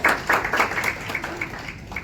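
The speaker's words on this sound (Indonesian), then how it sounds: "Kita tepuk tangan buat UMKM Indonesia" Scattered, fairly quiet clapping from an audience at a halal bihalal gathering and talk show, with distinct individual claps in an uneven rhythm that thins out over a couple of seconds.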